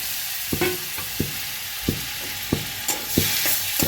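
Chopped green chillies fry in butter with a continuous sizzle, punctuated by regular spatula scrapes and taps against the pan roughly every half second; no voices.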